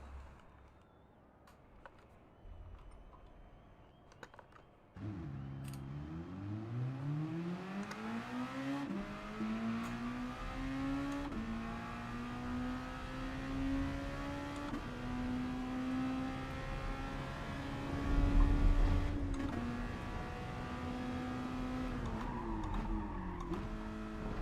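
A Renault race car in the video game Gran Turismo Sport revs and accelerates, its engine tone climbing steadily through the gears in a loud, sustained whine with brief shift dips, heard alone.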